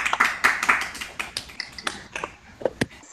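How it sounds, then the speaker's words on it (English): A few people clap unevenly for Emily after her bow at a virtual recital, the claps sparse and scattered, some close and sharp, others softer, with no talking. "So let's all have a round of applause for Emily."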